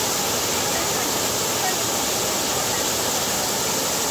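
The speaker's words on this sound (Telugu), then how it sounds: "హైదరాబాద్‌కి ఒక 35 కిలోమీటర్స్‌లో ఈ చిన్ని బుజ్జి వాటర్ ఫాల్స్ ఉందండి" Water pouring steadily over the small Nanajipur waterfall near Hyderabad, a broad continuous rushing roar, close and loud with no break.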